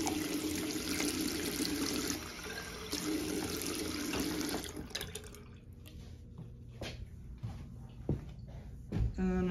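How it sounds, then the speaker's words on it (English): Water from a tap filling a small cup for a lab incubator, a steady close splashing stream for about five seconds, then stopping and leaving scattered drips and light handling clicks. "So I fill it up with a little bit of water."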